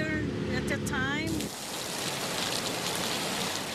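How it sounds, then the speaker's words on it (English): Torrential rain drenches evening commuter traffic on Route 2 in Lexington, a dense, steady roar of rain and splashing that follows a few seconds of a person talking. "the normally slow evening commute along Route 2 made even slower by torrential rain drenching the traffic in Lexington"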